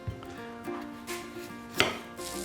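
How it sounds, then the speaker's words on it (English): A knife chops vegetables such as swede on a board in a home kitchen. A few quiet, irregular thuds sound close by over a faint background hum. "while Dave is still chopping"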